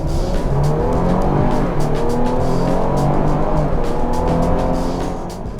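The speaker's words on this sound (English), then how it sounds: "Stuff your boot to the firewall and Explorer ST oozes off the line a car length or two until the turbochargers get huffing" A 2020 Ford Explorer ST accelerates hard as its turbochargers build boost, with a loud, sustained engine roar and rising tones that hold steady before easing slightly at the end.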